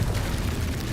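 An explosion spell in a Harry Potter video game goes off as a short, loud, booming blast filling the whole second with dense rumble.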